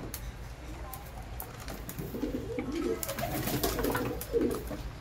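Pigeons coo softly and repeatedly at close range while being fed, their low throaty calls overlapping with light pattering and pecking sounds.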